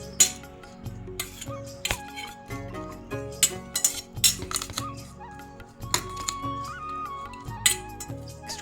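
Sliced drumsticks are mixed with green chillies and mustard oil in a bowl, giving repeated sharp metallic clinks and scrapes at an irregular rhythm, close by, over a faint tonal background.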